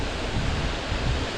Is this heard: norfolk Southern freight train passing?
no